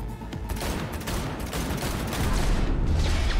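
Rapid assault rifle fire in the shooter game Cyberpunk 2077, a dense continuous burst of shots rattling loudly and close with no pauses, swelling slightly toward the end.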